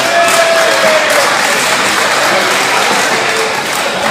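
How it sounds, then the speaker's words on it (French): Audience applause welcoming a 27-year-old female contestant onto the stage at a 2014 local talent event in Prisches, a steady dense clapping that fills the whole stretch with crowd noise. "on va l'applaudir très fort pour l'accueillir"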